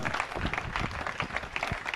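Audience at a Jain religious gathering clapping in honor of volunteers, a soft, uneven patter of many hands with scattered louder claps, heard at a distance.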